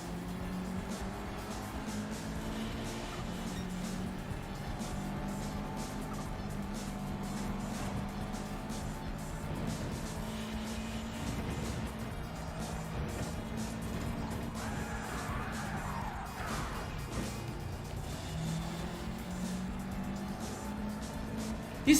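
Racing car engine in the Gran Turismo 7 video game, a continuous moderate drone with shifting pitch as the car accelerates and brakes, steady and fairly quiet throughout.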